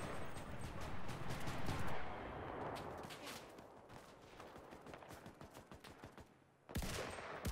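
Johnson LMG light machine gun firing in a video game, loud sustained bursts of rapid automatic fire with dense overlapping shots, pausing briefly near the end before resuming.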